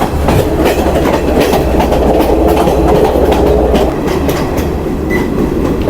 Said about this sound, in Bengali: ট্রেন যে ঘুরে ঘুরে যাচ্ছে, কি সুন্দর লাগছে।